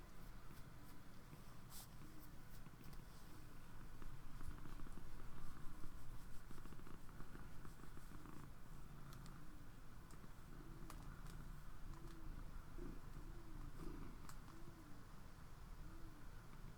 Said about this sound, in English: I wish you would turn around so you could hear her purr a bit.